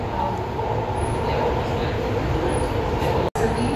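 A metro train rumbles along with a steady low roar and rattle of cars, a brief cutout near the end.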